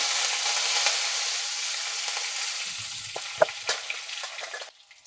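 Cumin seeds, asafoetida and curry leaves sizzle and crackle in hot tempering oil for a vegetable dish, a steady close frying hiss with a few sharp pops and spatters before it quiets near the end.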